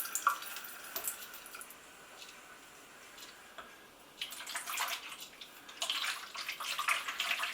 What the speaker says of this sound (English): we pour water into this aperture and give it a rinse